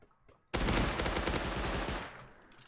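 Sustained burst of automatic gunfire in the survival game Rust, loud and dense for about a second and a half after a quiet start, then tapering off.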